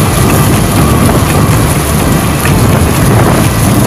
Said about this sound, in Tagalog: Ay, dito umulan na ang ulan.